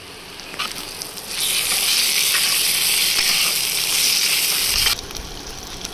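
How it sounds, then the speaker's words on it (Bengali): Browned onions and ginger-garlic paste fry in a pan for a prawn curry, giving a steady, loud hissing sizzle that swells after a second and cuts off abruptly near the end, with no voices. "পেঁয়াজগুলো লাল লাল করে ভেজে নিয়েছি, আদা রসুন বাটা দিয়ে আর 2 মিনিট কষিয়ে নেব"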